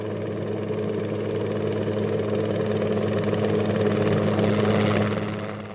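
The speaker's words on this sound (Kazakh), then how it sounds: "Осы бейнероликте бізге болысқан тік ұшақ." A helicopter drones steadily with a low rotor hum, close and loud, swelling slightly before fading at the end.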